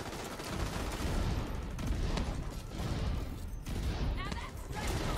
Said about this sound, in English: The fireworks going off inside the building.